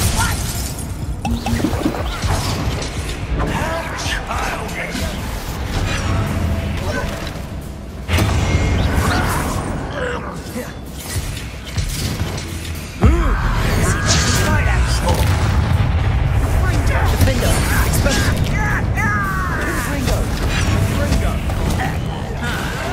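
Bombarda explosion spell in Hogwarts Legacy, a booming blast amid dense layered combat effects and crashes, loud and continuous, with a voice shouting spell names over it.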